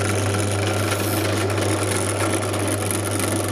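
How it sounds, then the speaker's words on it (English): Power drill with a 5mm bit boring holes for a green and a red LED in a school design and technology project, a steady continuous whine with a strong hum running unbroken throughout, close and loud. "I'm going to drill the two holes, the green LED and the red LED."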